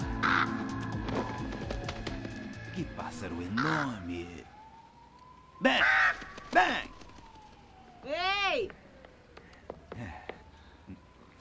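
A crow caws repeatedly in harsh bursts over a busy background, with a siren-like wail rising and falling and other noises mixed in.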